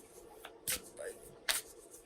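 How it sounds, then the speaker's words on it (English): Sacred Traveler Oracle cards being shuffled by hand, two short crisp riffling bursts close by with quieter rustles between, set against a low steady background hum. "you may hear me shuffling the Sacred Traveler Oracle cards that I'm working with today"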